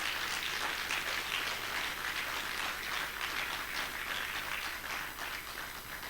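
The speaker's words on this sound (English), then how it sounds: "let us please give him a round of applause." Sustained applause from a graduation ceremony audience, with dense, continuous clapping that holds steady throughout without any speech over it.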